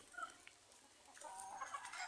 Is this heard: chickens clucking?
yes